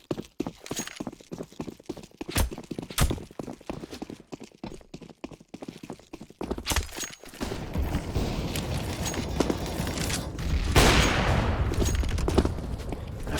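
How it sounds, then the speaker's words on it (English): Counter-Strike gunshots on the Cache map: a rapid run of sharp, evenly spaced shots fills the first half, then a denser roar of firing and explosions takes over, loud and close, with no talk. "An insane wall bang there through the wall."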